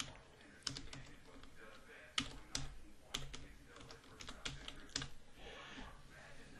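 Soft keyboard typing, irregular taps and clacks with a few louder keystrokes, close by and otherwise quiet.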